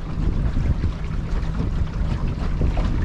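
Sailboat motoring across a busy lake under electric motor power, giving a steady low hum and churn of water with wind rushing over the microphone, continuous and close for the whole stretch.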